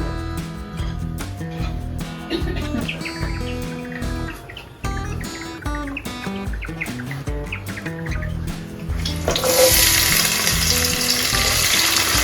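Hot oil in a pan for a Telugu dried fish and taro tamarind curry hisses into a loud, steady broadband sizzle in the final few seconds, as onions go in, after a stretch dominated by background music.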